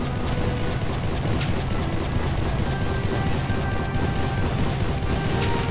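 Battle gunfire in Civil War: Secret Missions at Lynchburg, a steady din of musket fire and distant combat noise rolling on continuously, with sporadic sharper shots over a dense background.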